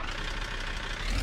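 A Land Rover engine in the Car Mechanic Simulator 2021 video game turns over and catches, a steady mechanical whir that swells into a deeper, louder rumble at the end.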